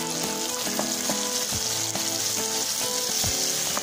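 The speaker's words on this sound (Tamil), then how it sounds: "தக்காளி போட்டு நல்லா வதக்குவோம்." Onions and tomatoes frying in a pan for a mixed chutney, giving a steady close-up sizzle and crackle with occasional stirring scrapes and no talking.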